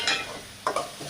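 A spice masala of cumin, turmeric and chili powder is stirred and fried in a pan, giving a few short scraping and sizzling bursts with quiet gaps between.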